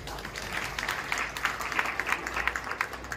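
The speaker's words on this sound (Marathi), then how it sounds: "आधी आपण एकदा जोरदार टाळ्या वाजवूयात का?" Audience at a marriage meet gathering clapping loudly together, a dense patter of many hands sustained for a few seconds at moderate distance, no voices over it.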